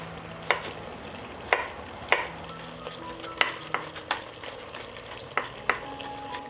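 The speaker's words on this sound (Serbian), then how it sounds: "Dok se šnicle prže sa druge strane" Schnitzels sizzle in a pan while cooking on their second side, a steady close frying hiss broken by several sharp clinks and scrapes of a utensil against the pan.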